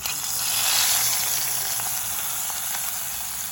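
Curry leaves hit hot oil for a dal tempering and sizzle loudly and continuously, a dense bright crackle that swells briefly and then settles into a steady fry.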